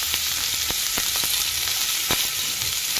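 Carrots, beans and potatoes fry for a chicken stew with a loud, continuous sizzle and a few scattered stirring clicks.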